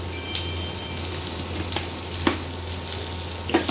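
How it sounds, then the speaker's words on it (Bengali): Eggplant slices frying in oil give a steady, close sizzle with a low hum underneath, broken by a few sharp crackles and spatters near the end. "বেগুন ভাজা প্রায় কমপ্লিট"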